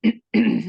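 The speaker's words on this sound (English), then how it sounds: "It sounds like we got some little coughs going around here." A person coughs twice in quick succession on a team call, two short, close, throaty bursts separated by a brief pause.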